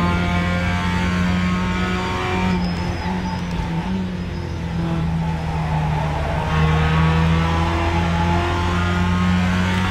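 A race car engine in the iRacing simulator game holds a loud, steady whine through the gears, with pitch shifting up and down under acceleration and braking, close and continuous throughout.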